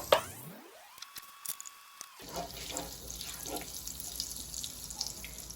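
Washed rice poured into melted butter in a pan, a sharp wet squish at the start followed by steady close sizzling and crackling that continues to the end, with a brief tone partway through.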